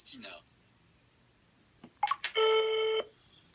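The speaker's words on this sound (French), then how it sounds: "Et vous voyez que le téléphone sonne." An iPhone placing an outgoing call, with a few quick keypad clicks followed by a steady, loud electronic ringback tone that holds for about a second; a brief voice is heard at the start.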